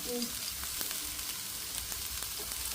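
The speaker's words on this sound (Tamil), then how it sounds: "வெங்காயம் போட்டுட்டா நல்லா இதை வதங்க விடுவோம்" Onions sauté in a pan with a constant close sizzle and faint stirring scrapes.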